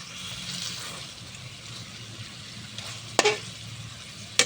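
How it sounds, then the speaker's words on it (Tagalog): Chicken sinampalukan stirs in a pot over a wood fire, a steady close sizzle and bubbling broth with a couple of sharp clanks from the spoon against the pot near the end. "Haluin natin."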